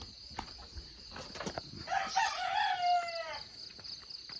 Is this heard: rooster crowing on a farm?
yes